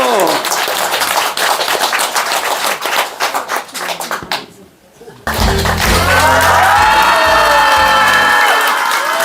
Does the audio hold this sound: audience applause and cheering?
yes